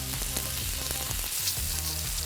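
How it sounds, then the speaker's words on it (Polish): Goose pieces frying skin-side down in a pan, a dense, steady crackling sizzle at moderate volume with faint clicks, heard without talking. "Pamiętajcie, żeby smażenie gęsi lub kaczki zawsze rozpocząć od skórki."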